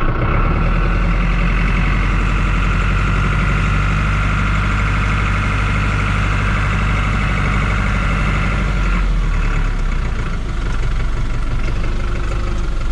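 A heavy truck engine runs steadily in low gear for the whole stretch, a deep continuous rumble with a faint beeping tone layered on top and a brief shift in tone near the end.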